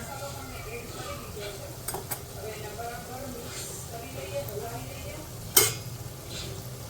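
Turmeric, coriander-cumin powder, red chilli powder and Maggi masala are stirred and fried in a pan, giving soft scraping and faint sizzling with one sharp utensil clink, beneath someone talking.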